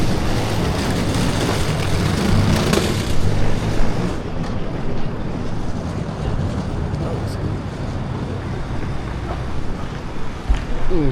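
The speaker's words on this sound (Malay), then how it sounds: "Angin-angin Finland macam mana?" Strong wind buffets outdoors in Finland, a loud, continuous broadband rush with gusty swells that eases slightly partway through, heard alone at close range.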